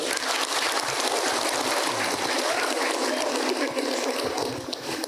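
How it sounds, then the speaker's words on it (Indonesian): Audience at an Islamic question-and-answer session with Ustadz Hilman claps together, a continuous wash of many hands at moderate distance, steady and even with no clear pauses. "Oke, tepuk tanganmu, tepuk tangan Hilmanmu."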